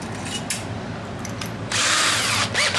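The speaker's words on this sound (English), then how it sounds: "Power and RF holes, I'll just drill those out." Power drill boring holes in a portable console case, a steady close whine that grows louder and rougher as the bit bites into the material, with no voices.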